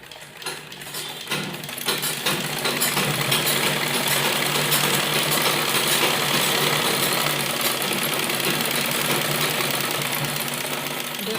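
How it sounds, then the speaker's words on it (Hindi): Sewing machine running a long basting stitch along printed kurti fabric, a steady continuous whirring and rapid mechanical chatter that holds level for about ten seconds after a brief start. "तो अभी हम कच्ची सिलाई इसके ऊपर लगाएंगे"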